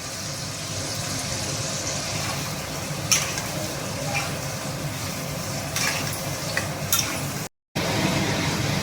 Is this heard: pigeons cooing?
no